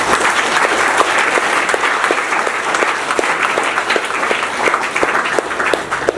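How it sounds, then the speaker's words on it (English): Audience applause after a student's thank-you speech at a Biology Olympiad camp event, dense and sustained clapping from a crowd close by, steady for several seconds. "a round of applause for them"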